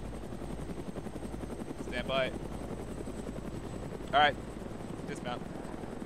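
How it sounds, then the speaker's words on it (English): Huey helicopters in an Arma military video game, a steady rotor drone running under the whole stretch while voices give brief radio-style commands. "Ah, Hueys."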